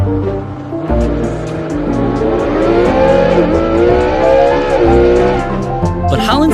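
A high-end footballer's sports car with a huge engine revs loud and close, its tone climbing and falling in long surges with a brief throttle blip near the end. No one speaks over it.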